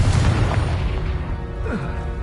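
Loud, booming blast from the Confringo fire spell in the video game Hogwarts Legacy, a heavy low rumble that starts strong and decays over a couple of seconds.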